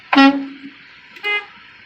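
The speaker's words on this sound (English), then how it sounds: "My air horn and city horn are both working properly" A loud, harsh truck air horn blast sounds first, followed a second later by a shorter, higher-pitched city horn honk, with quiet background between them.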